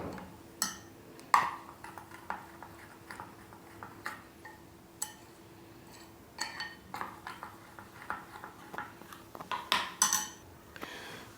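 Spoon clinking against a bowl while stirring cumin into a semolina batter, a steady run of light metallic taps and scrapes at close range, with no talking.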